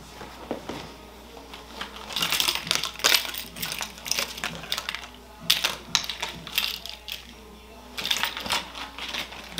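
Keys jingle and clink close by in quick, irregular bursts with short pauses between, a voice faintly present underneath.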